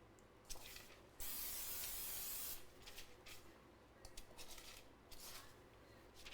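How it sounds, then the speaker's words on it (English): Pan spray hisses from a can onto a baking pan in a kitchen, a short burst followed by a longer steady spray and several quick shorter bursts with light handling clatter. "Let me get pan spray and load these suckers up."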